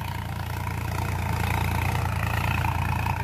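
A Sonalika DI-5 52 HP tractor runs in second gear in a farm field, its engine giving a steady, close, low rumbling throb that holds evenly throughout with no pauses.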